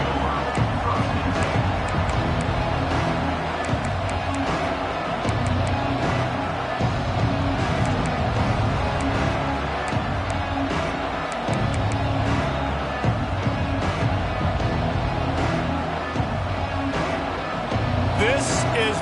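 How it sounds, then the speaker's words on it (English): Crowd noise filling a football stadium during a game, a dense continuous roar of many voices with scattered cheers, heard under a commentator's play-by-play. "This crowd ready to make its presence known."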